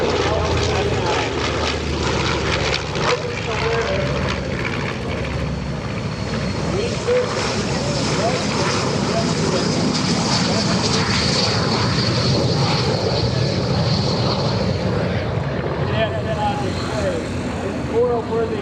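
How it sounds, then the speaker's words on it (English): An L-39 jet roars loudly and continuously during a flying display at the EAA AirVenture airshow, its engine noise swelling and whining as it passes, while an announcer talks over a public address system. "that L-39 jet"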